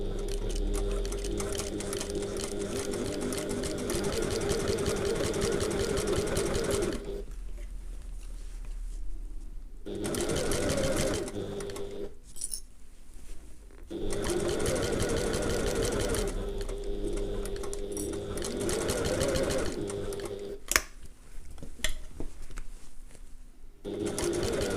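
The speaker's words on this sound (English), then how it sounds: "I'm starting sewing just where that end panel meets the main panel" A domestic sewing machine stitches around the top edge of a fabric handbag, joining an end panel to the main panel, running in steady continuous bursts with a few short pauses between runs.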